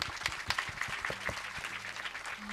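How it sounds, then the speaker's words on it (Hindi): Audience applause at a Chhattisgarhi nacha folk theatre performance, a spread-out patter of clapping with sharp individual claps, fairly faint and distant, continuing for a couple of seconds. "ताली पीट के भाई।"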